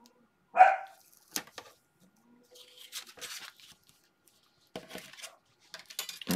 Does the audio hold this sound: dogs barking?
yes